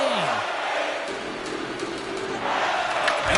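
A hockey arena crowd at a tied playoff game late in the period keeps up a dense, loud roar of cheering and shouting, swelling again toward the end.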